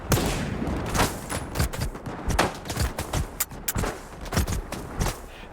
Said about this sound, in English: Well, meet sniper rifle.